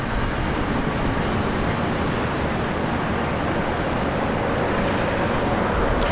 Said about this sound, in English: So that Jetstar about to take off